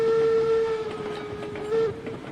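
Locomotive pulling a tanker train in the railroad game RailRoads Online, a sustained whistle tone over steady rolling rail noise and clatter, loud and close, with no talking.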